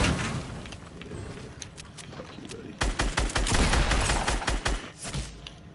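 Fortnite gunfire at an enemy: scattered shots early, then a dense run of rapid, punchy shots at close range, with faint game noise between.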